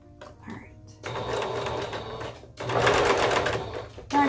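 A sewing machine sews a back stitch on fabric in two close, steady runs with a short pause between, and a voice speaks briefly before and over it.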